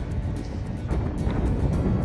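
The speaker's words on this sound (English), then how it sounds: "It is windy and very cold already." Strong, cold wind gusts at a Pacific Crest Trail camp buffet the microphone with a low, rumbling roar that swells and fades in quick pulses.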